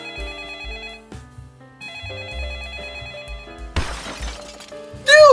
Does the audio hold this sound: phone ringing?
yes